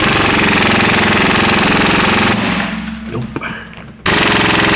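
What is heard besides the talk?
air impact gun running during Toyota Prius repair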